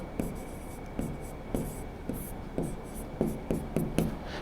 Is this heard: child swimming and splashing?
no